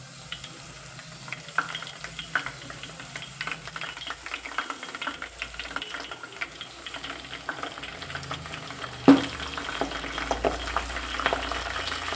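Hibiscus flowers, hibiscus leaves and henna leaves frying in oil make a steady soft sizzle with faint crackles and one sharper pop partway through, and no voices.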